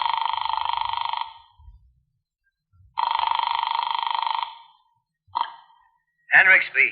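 Telephone ringing on the line after a number is dialed, two long electronic rings separated by a pause, followed by a click and a voice answering.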